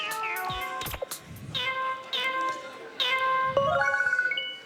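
Cat meow instrument in the video game Wii Music, playing a melody of bright synthetic meows in quick succession, near and clear, ending in a rapid run of repeated notes.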